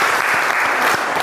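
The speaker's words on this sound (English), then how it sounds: "Round of applause." An audience claps steadily in a dense, even wash of applause that runs the full length, close and loud with no voices over it.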